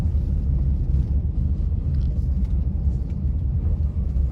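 Interior drone of a 2014 Honda Brio Satya E manual accelerating in second gear, a steady low engine and road rumble that stays even and moderately loud, with no talking.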